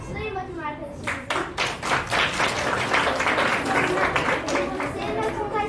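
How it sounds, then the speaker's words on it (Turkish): Schoolchildren applaud a classmate during a primary school theatre performance, a burst of scattered claps building into steady, lively clapping from many small hands, with chatter mixed in. "Alkışlayın bakayım arkadaşınızı."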